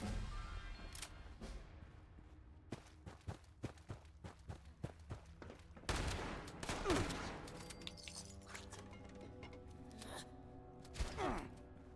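Shotgun gunfire in a Fallout 76 mine firefight, a string of sharp blasts spaced irregularly with footsteps and running between them, some shots close and loud, others fainter.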